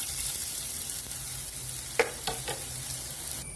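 Grated carrot fries in ghee in a hot pan, giving a soft steady sizzle with a few quick stirring scrapes near the end.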